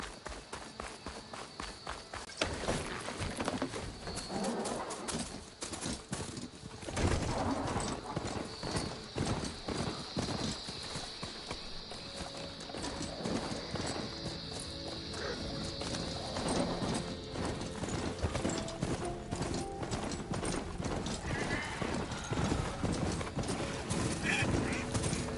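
A robotic machine mount in Horizon Forbidden West clip-clops steadily along at a brisk gallop-like rhythm, its hooves hitting continuously and loudly throughout with faint mechanical whirs and no talking.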